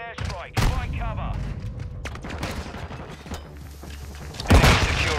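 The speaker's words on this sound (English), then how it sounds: "Enemy precision airstrike. Find cover." Precision airstrike explosions and gunfire in Call of Duty: Modern Warfare II, with bursts of rapid shots, heavy booms and a loud blast near the end, mixed with an in-game voice announcer.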